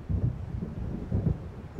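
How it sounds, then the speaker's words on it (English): Rumbling thunder from an approaching storm in the video game Alan Wake, rolling in two low swells over a steady dull background, fairly loud and with no speech. "It seems there's a storm coming."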